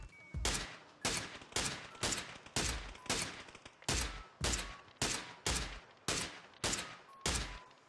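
PUBG weapon gunfire: about a dozen loud, sharp shots fired one at a time at an even, rapid rhythm, each with a short tail, with no talking.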